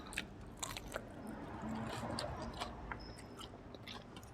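Grilled Isan sausage eaten with pickled ginger and fresh chili: close, moist chewing with soft crunchy bites repeating steadily, no voices.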